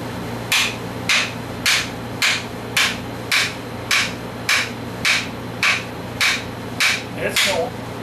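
A tool handle being tapped into place with light hammer blows, about a dozen crisp, evenly spaced knocks at a steady, unhurried rhythm, close and clear.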